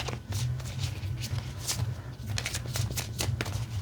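Tarot cards are shuffled and drawn by hand, with a close, rapid papery riffling and slapping that runs throughout over a low hum.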